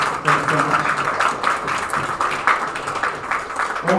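Audience at an evening history museum leadership symposium applauds steadily, a broad continuous patter of clapping filling the room without a break.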